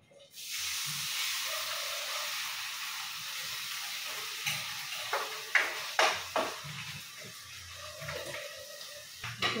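Fresh alamang shrimp paste sizzles steadily in a hot pan, a continuous close hiss with a few soft clinks of utensils against the cookware toward the end.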